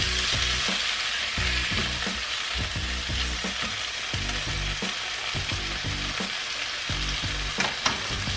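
Cashews frying with ginger garlic paste in a pan at home, a loud continuous sizzle close up with rhythmic stirring knocks throughout and no talking.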